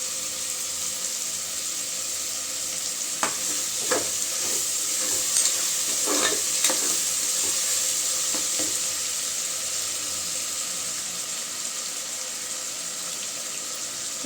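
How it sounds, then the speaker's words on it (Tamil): Chicken pieces cook in a pan for chicken biryani, giving a steady, moderate sizzle with scattered stirring clinks and scrapes in the middle stretch. "சிக்கன் வேக இருக்குது."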